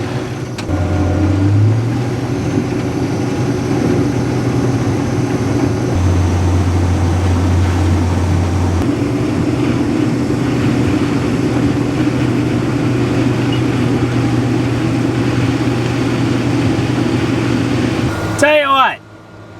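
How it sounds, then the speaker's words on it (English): A farm harvester runs in a field with a loud, steady mechanical drone and low engine rumble, a slight shift in pitch partway through as the slip clutch engages, ending with a brief clatter and a sudden drop. "It's gonna kick off the slip clutch"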